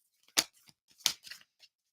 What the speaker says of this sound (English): So says we're just shuffling them a little.